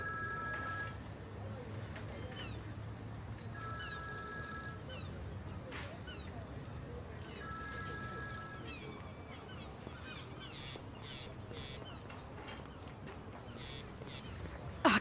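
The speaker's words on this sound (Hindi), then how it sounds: "मैंने फोन नहीं उठाया तो आप दूसरे नंबर से फोन कर रही हैं।" Phone ringing with an incoming call, two bursts of a bright electronic ringtone a few seconds apart over indoor background noise, with people talking nearby.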